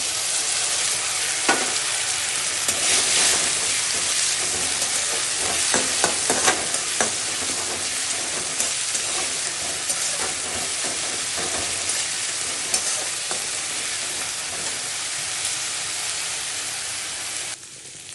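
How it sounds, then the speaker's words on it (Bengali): Ginger, garlic and green chilli paste frying in a pan for a lote fish curry, a steady loud hiss and sizzle with occasional stirring scrapes, continuous throughout with no talk. "এখন আদা, রসুন, কাঁচা লঙ্কা পেস্ট করা দিয়ে দিচ্ছি"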